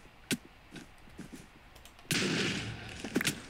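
Fireball explosion in a Bedwars match, a sudden loud broadband blast partway through that lingers and fades, preceded by scattered short pops and small game noises.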